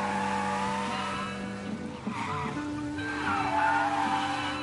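Lincoln's car from Mafia driving in the game: a steady engine drone with tires squealing and skidding, loud and continuous throughout, no talk over it.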